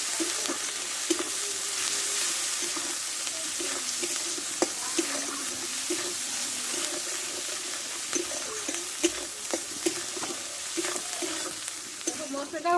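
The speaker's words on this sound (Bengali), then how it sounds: "মশলাটা ভালোভাবে কষে নেবো" Masala with salt and turmeric fries in oil in a pan, a continuous soft sizzle with scraping and stirring taps throughout, fairly quiet and without talk.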